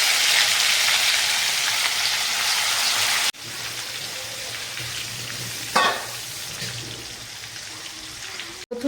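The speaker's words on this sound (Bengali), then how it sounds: "এবার আমি যে চিকেনটা মেখে রেখেছিলাম দিয়ে দিচ্ছি" Marinated chicken dropped into a pan with whole cumin and cardamom in oil, a loud close frying hiss that cuts abruptly, then continues as a quieter bubbling sizzle with a brief clatter midway.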